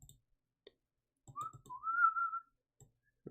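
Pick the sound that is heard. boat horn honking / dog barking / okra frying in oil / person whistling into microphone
person whistling into microphone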